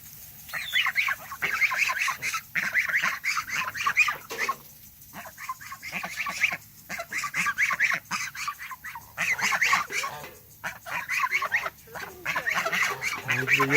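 Young goslings honk and chatter in rapid, overlapping calls near a fence shared with turkeys, the busy squawking coming in bursts with short lulls between them.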